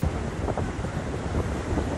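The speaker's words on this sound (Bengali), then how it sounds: "কুয়াকাটায় উত্তাল হয়ে উঠেছে সমুদ্র, বয়ে যাচ্ছে দমকা হাওয়া।" Gusty wind buffets the microphone on the Kuakata coast as Cyclone Remal whips up rough seas, a steady roaring rush with surf noise beneath and no voices.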